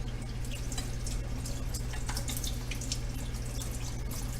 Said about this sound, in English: Look at these beautiful heads of broccoli. Let me wash them off.